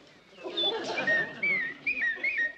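Whistled imitation of a blue-tailed mountain warbler: a series of short, bright chirps and rising-falling trills in quick, uneven bursts, close and fairly loud.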